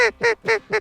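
Four loud, nasal quacks from ducks in a Dakota field during freeze-up, evenly spaced in quick succession and heard up close.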